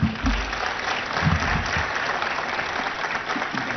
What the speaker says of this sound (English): So I think they deserve a big round of applause first.